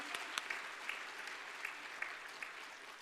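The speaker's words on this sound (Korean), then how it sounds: "우리 할렐루야 박수 한번 보낼까요?" A church congregation claps together at a Sunday afternoon service, with a steady, moderately distant patter of many hands that holds for the full three seconds.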